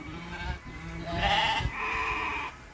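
Sheep at a farm sale bleating in two or three close, loud calls over a couple of seconds, alone with no talk.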